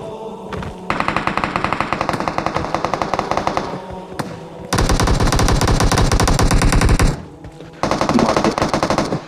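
Automatic gunfire in the PUBG Mobile battle royale game, loud rapid bursts of rattling shots in several long strings separated by short pauses, close and dominant with no talk over it.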